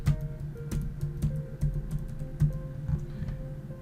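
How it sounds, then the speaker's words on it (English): Keys clatter on a computer keyboard while a word is typed, a quick irregular run of light clicks, close and fairly quiet, with no voice over it. "Let's type in the word sketchbook again"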